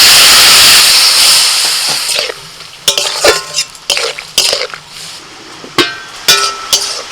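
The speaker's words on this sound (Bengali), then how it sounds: "সামান্য একটু জল দিচ্ছি" Water hits onions frying in a pan, a loud hiss of steam at first that fades over two seconds, followed by a series of sharp clinks and knocks from a utensil against the cookware.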